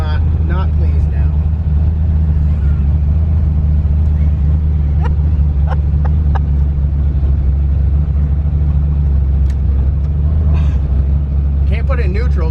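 An LS-swapped twin-turbo Fox Body car drives through city streets, its engine holding a deep, steady, truck-like drone heard close from inside the cabin, with people talking over it.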